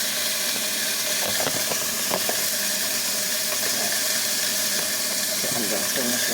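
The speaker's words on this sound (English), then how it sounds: "I'm gonna show you while it's sizzling." Pepper jack cheese sausage and sauerkraut sizzling in a pan on a stovetop, a steady hiss and crackle with scattered pops, close and continuous.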